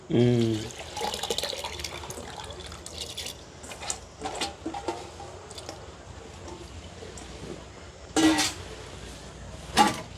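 Water splashes and pours in short bursts, with some quiet clatter and sloshing in between; faint talk is barely present.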